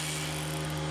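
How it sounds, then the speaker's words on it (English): Electric ratchet running, a steady high-pitched motor whine with a constant hum, close and uninterrupted for about a second. "this is our electric ratchet."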